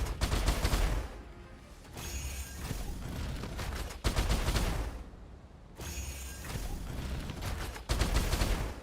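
Dense bursts of rapid gunfire in the game Aphelion, aimed at a bomb, come in loud sustained volleys separated by brief quieter gaps, close and continuous.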